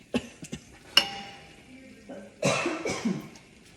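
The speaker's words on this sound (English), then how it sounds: "So all the spices are making me cough." A woman coughs several times in short, sharp bursts while spices cook for a smoked eggplant dish, with faint kitchen clinks and a quiet voice between coughs.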